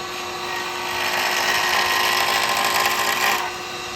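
A woodturning lathe spinning at about 3080 rpm as a cutter works a click pen blank, giving a loud, steady, close whine of high-pitched cutting that builds and holds for a few seconds, then eases off near the end.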